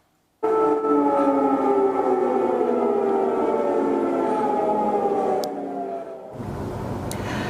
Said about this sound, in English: You heard their air raid sirens as explosions rocked Kyiv